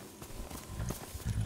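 Horse hooves clip-clop at a walk in the video game Ghost of Tsushima, quiet, brief and fairly close, with a faint background bed.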